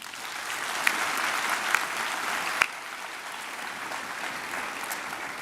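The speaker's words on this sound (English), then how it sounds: "let us give a fitting round of applause" A graduation ceremony audience gives a steady round of applause, a dense wash of many hands clapping at moderate distance, with a few sharper individual claps standing out.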